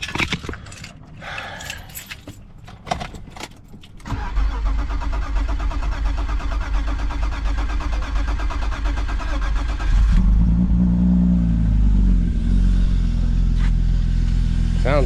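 Keys jingle and rattle, then a BMW E36 sedan engine cranks and catches, idles steadily, and revs up louder near the end.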